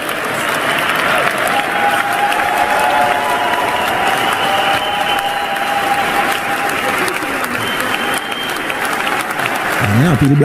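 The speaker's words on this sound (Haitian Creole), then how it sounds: "Un pile applaudissement." A large audience applauds loudly at an address, the clapping a dense, continuous roar that holds for the whole stretch while a voice talks over it.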